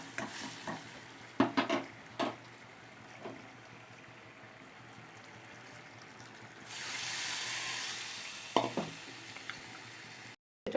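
Panch phoron five-spice and dried red chillies frying in oil: scattered stirring knocks and scrapes against the pan at the start, then a sustained hiss of sizzling that swells midway before more knocks and an abrupt stop.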